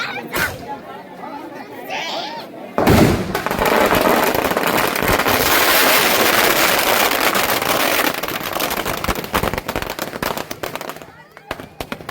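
Fireworks burst during a Dussehra Ravan Dahan celebration in Araud: loud, dense crackling and popping that swells into a sustained roar for most of the stretch, with crowd chatter and voices mixed in throughout.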